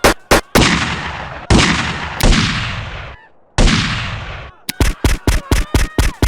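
Modded weapons firing in GTA San Andreas: several loud, booming single shots with long decaying tails, then a quick run of sharp rapid shots at the end, close and alone with no talk.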